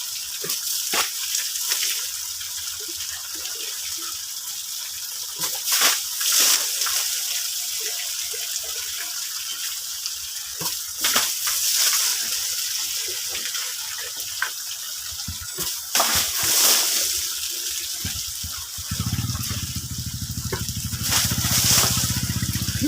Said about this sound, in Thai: น้ำไหลแรงวันนี้น้ำไหลแรง